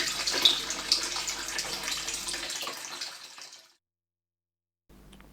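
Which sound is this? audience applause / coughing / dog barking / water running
water running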